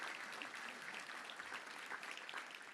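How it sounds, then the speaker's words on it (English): A crowd at a Little Rock Touchdown Club luncheon applauds its volunteers with steady, dense clapping that holds at an even level throughout, with no talk over it. "Let's give them, all of them, a round of applause,"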